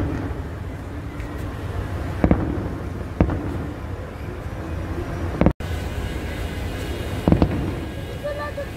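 Fireworks burst over a Saudi National Day celebration, a steady rumbling wash of distant explosions with several sharper pops standing out, while people nearby talk excitedly over the noise.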